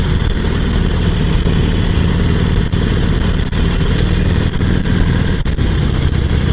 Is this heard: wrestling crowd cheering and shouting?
no